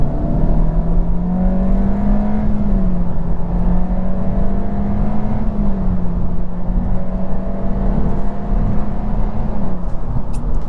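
A 2022 Honda Civic Touring sedan with a CVT pulls hard at full throttle, its engine drone holding a steady, sustained pitch that climbs only slightly and dips briefly, loud and continuous inside the cabin with no talking.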